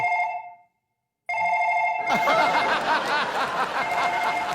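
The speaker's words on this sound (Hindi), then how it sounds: "हिटलर का फोन बज रहा है।" Telephone bell ringing in repeated bursts with a short gap, loud and close, followed by a burst of laughter and noisy chatter.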